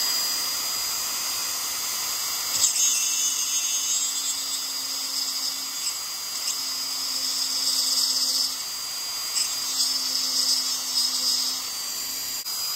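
Dremel rotary tool drilling into the shoulder of a figure, a continuous high whine close by with slight changes in pitch and load as the bit bites, no talking.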